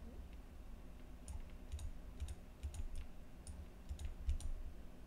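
Light clicks on a computer keyboard come in short irregular bursts while points are entered in Rhino 3D, faint and close against a quiet background, with no talking.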